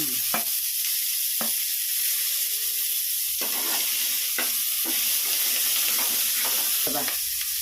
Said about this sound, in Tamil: இந்த பூண்டு வெங்காயம் தக்காளியெல்லாம் போட்டு வதக்கிட்டோம்